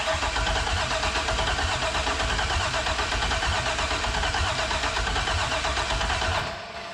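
An LS V8 swapped into a 1949 Ford F1 pickup cranks over loudly and steadily for about six seconds with a dense churning roar, then cuts back to a quieter background hum. No one speaks.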